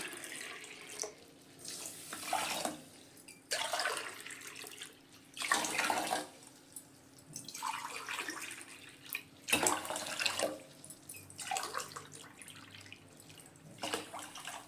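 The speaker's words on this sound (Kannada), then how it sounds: "4 ಗ್ಲಾಸ್ ನೀರು ಹಾಕ್ತಾಯಿದ್ದೀನಿ." Tap water runs in repeated bursts into a vessel to make sugar syrup for gulab jamun, with short pauses between the pours and no talking.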